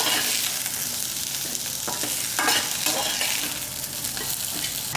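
Coriander leaves are stirred and sautéed in a hot pan, giving a steady close sizzle with scraping stir strokes throughout.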